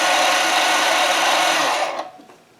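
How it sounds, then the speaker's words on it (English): DeWalt DCS374 20V Max brushless cordless deep-cut band saw running with its blade at a slow speed setting, a steady close whirring buzz that cuts off near the end and leaves a brief quiet tail. "When we pull in on the trigger now, you can see the blade will be turning much slower."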